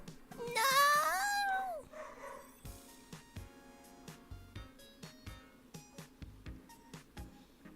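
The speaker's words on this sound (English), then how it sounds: "He's barking at it to go away." A dog at home lets out a long, rising whining yelp up close, then keeps up a steady run of short, evenly spaced barks or huffs at moderate volume, with no talk over it.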